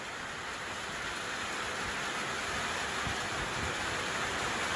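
Heavy rain drums on a tin roof during a rainstorm on a rough road stop, a dense, continuous hiss that is loud and steady throughout with scattered heavier drops and no voices.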